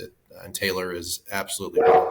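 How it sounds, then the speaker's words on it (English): A pet dog named Gunner barks and yips a few times indoors, mixed in with a person talking over the barks. "That's a dog."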